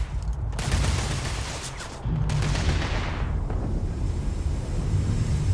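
Gunfire in the sci-fi video game Starfield: a sustained rattle of shots with loud bursts at the start and again about two seconds in, over a rumbling game soundscape, with no talking.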